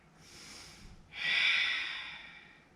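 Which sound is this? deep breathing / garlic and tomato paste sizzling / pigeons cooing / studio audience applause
deep breathing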